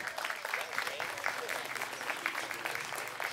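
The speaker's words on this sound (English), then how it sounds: "So please give them a round of applause." A crowd applauds judges at a pin-up pageant held at a motorcycle event, steady clapping throughout the clip with no voices over it.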